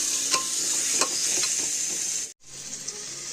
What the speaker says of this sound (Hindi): तो अभी मैं इसे भून लेती हूँ अच्छे से